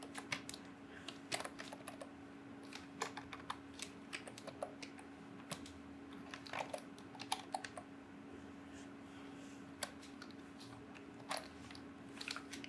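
Java code is typed on a computer keyboard in quick, irregular bursts of soft clicking keystrokes, heard close and fairly quiet over a faint, steady electrical hum.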